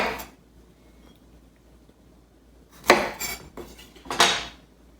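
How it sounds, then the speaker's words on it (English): Two sharp clusters of knife strikes on a cutting board, each a quick burst of chopping the stems off jalapenos, separated by a brief pause in a quiet kitchen. "I'm going to prepare my ingredients by just chopping off the stems of the jalapenos"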